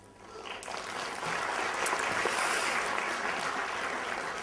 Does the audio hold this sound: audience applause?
yes